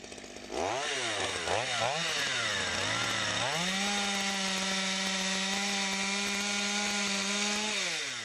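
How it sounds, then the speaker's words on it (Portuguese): A piece of wood for a fence post is cut with a power saw whose engine revs up and down a few times, then settles into a loud, steady high whine close by. "a gente vai cortar um pedaço de madeira nesse tamanho e ele vai ser colocado no fundo do buraco, atrás do poste esticador"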